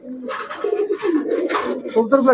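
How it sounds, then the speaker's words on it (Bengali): Large racing pigeons at a shop coo in a run of low, throaty calls up close, while someone talks over them. "কবুতরগুলো তো অনেক বড় কবুতর ভাই এইগুলা হলো রেস করা কবুতর"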